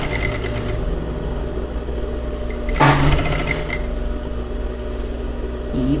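A sewing machine stitches a blouse of fine, fluid fabric, running with a steady even mechanical whir throughout, briefly interrupted by a louder clunk near the middle.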